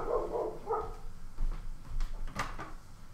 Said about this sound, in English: Almost enough time for me to let the dog in.